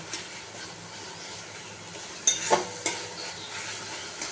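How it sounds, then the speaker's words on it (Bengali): Mustard and poppy seed paste is stirred in oil, a soft steady sizzle under quiet scraping, then a few sharper clinks and spatula knocks around the middle of the clip. "এটা একটু তেলে দিয়ে নেড়ে নেব"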